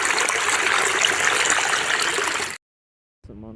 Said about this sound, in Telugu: నయాగరా జలపాతాలు అన్నట్టు ఉంది వ్యూ.